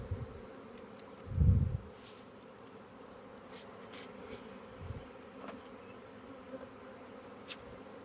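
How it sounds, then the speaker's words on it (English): A honeybee swarm buzzes around a hive, a low hum with a louder burst as one passes close to the microphone, then fainter droning in the background. "wait a few minutes for all these flying bees to find their way inside the hive"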